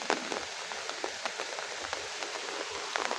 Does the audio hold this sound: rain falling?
yes